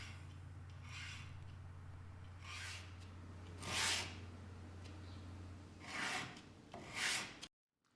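A wooden acoustic guitar fretboard is sanded flat by hand, giving several loud rasping strokes in bursts over a low steady hum, followed by abrupt silence.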